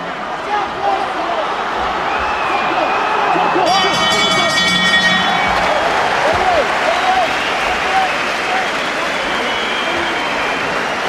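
A boxing arena crowd at Eubank v. Thompson cheers, claps and shouts a boxer's name in a loud, sustained roar, with a ringside commentator talking over it and a brief bell-like ringing partway through.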